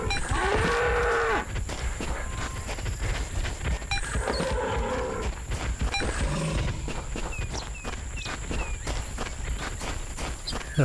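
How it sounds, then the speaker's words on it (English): Buffalo and other livestock in the Cabela's African Adventures video game on PS3, with game animal calls and low lowing sounds over steady hoof-like clip-clop and footsteps, continuous and fairly loud throughout. "Those are buffalo."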